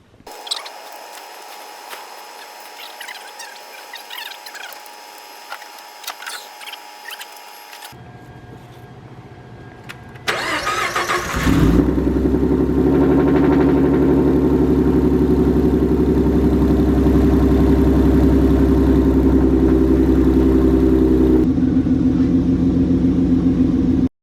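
After quiet mechanical ticking, a Ford Mustang 3.7 V6 engine cranks and catches, then runs steadily with a loud, deep rumble as the car idles and moves off.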